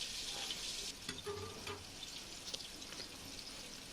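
Shrimp frying in a pan for breakfast fried rice with vegetables: a steady, close sizzle and hiss runs throughout, with a few soft clinks and stirring sounds scattered over it.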